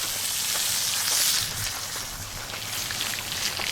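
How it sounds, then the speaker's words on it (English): Food sizzles in a cast iron pan at a motorcycle campsite, making a steady, hissing crackle that stays even throughout with no one talking. "So we'll let that stuff sizzle away"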